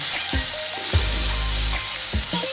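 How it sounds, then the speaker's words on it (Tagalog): Bitter gourd (ampalaya) sautéing in a pan while being stirred: a steady, loud sizzle with low scraping thumps from the spatula recurring every half second or so, close up and with no talking. "halu-haluin lang hanggang maluto yung ampalaya"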